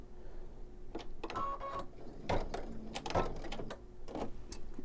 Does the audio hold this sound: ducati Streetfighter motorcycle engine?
no